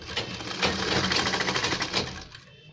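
A sewing machine runs long stitches along a folded kurta hem, a steady rapid mechanical chatter close by that winds down and stops at the end.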